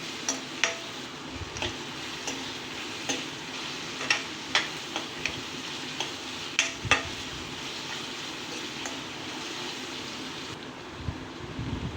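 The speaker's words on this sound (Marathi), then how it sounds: "आता कांदा आपण छान असं तेलामध्ये छान भाजून घेऊया" Chopped onion frying in oil in a home kitchen gives a low, steady sizzle, broken by sharp ticks and scrapes of a spoon stirring against the pan.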